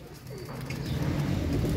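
Pigeons kept for flying coo faintly and low amid steady outdoor background noise, with a brief chirp partway through.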